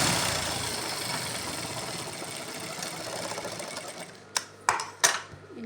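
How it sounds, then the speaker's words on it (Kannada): A sewing machine stitches fabric from the inside before folding, a close, fast mechanical whirr that runs continuously, then stops and gives way to a few sharp clicks and knocks. "ಈಗ ಇನ್ಸೈಡಿಂದ ಒಂದು ಸ್ಟಿಚ್ ಹಾಕೋಣ."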